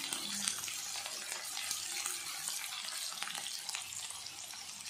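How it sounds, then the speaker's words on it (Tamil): Chopped onion frying in ghee for a South Indian bottle gourd kootu gives a steady, dense sizzle with scattered crackles and pops, close and continuous with no talking. "வெங்காயம் வதங்கவும் கருவேப்பிலை சேர்த்துக்கலாம்."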